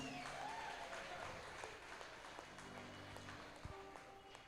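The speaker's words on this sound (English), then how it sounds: "clap for Father Daigo, please." Audience clapping for Father Daigo at a cake auction and vote of thanks, faint and fairly distant, a scattered patter of hands with background hum and some voices.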